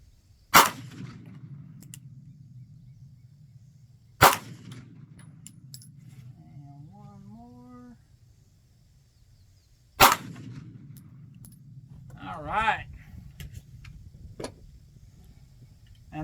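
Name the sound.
Heckler and Koch USP Expert pistol shots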